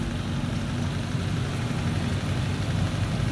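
Yamaha 50 outboard motor idling steadily while warming up after carburetor cleaning, a continuous low mechanical drone, close and even, with no voices.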